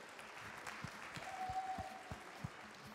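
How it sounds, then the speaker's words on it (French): Steady applause from a crowd at a cooking show event in Lyon, dense clapping with a few sharper claps standing out, continuing throughout at moderate distance. "On peut les applaudir bien fort, plus fort."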